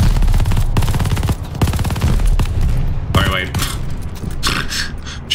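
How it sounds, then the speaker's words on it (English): Dense bursts of automatic gunfire in Call of Duty Vanguard during a street battle alongside Soviet troops, loud and close, rattling in rapid volleys with voices shouting over the shooting. "Just shooting my teammates."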